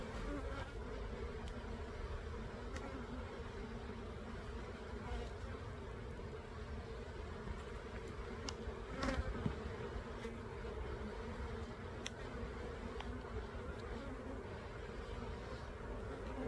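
Dense, steady buzzing of many honey bees around an opened beehive, close and continuous, with a few brief louder passes near the listener.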